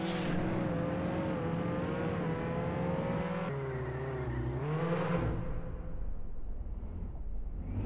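Car engine in the Roblox Jailbreak video game, steady loud revving hum with shifting pitch as the car drives off, changing tone midway and settling into a sustained whine, no talking.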